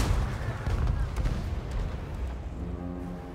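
Heavy artillery guns fire in a Total War battle, loud booming blasts rolling together into a dense, continuous rumble of gunfire and explosions, with a voice talking faintly underneath.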